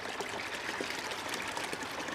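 Water rushes steadily through a PortaSluice gold sluice loaded with New Mexico blend paydirt, the water treated with jet dry; a constant, close, even wash with no talk.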